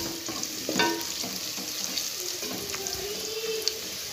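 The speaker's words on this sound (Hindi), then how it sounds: "प्याज गोल्डन ब्राउन होने पे इनमें लहसुन अदरक का पेस्ट शामिल कर देंगे" Onions frying in a pan with garlic-ginger paste for Punjabi kadhi pakora, a steady soft sizzle with faint clinks and stirring scrapes, close and fairly quiet, no talk.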